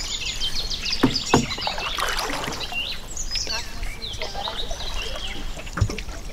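Oars work a rowboat through the water, sending splashes and knocks of the wooden oars at irregular intervals, while birds chirp nearby and voices talk in the background.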